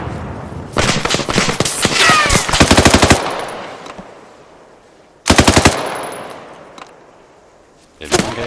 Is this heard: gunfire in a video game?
yes